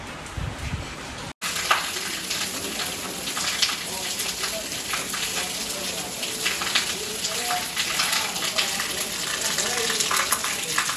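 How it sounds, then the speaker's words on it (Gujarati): Rain falls in a steady, dense hiss after a brief cut near the start, sounding close and continuous. A voice talks faintly underneath. "વરસાદ ચાલુ છે"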